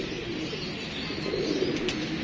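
A male and female pair of pigeons coo together in a soft, throaty, rolling drone that runs unbroken and close, with no talking.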